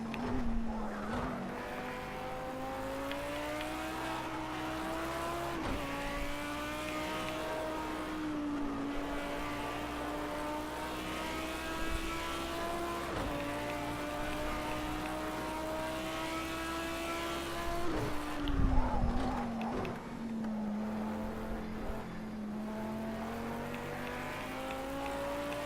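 Race cars lap a track in a racing video game, heard as a continuous loud engine drone. The pitch climbs steadily and drops at gear shifts, and brief tire squeal may come through. No one speaks.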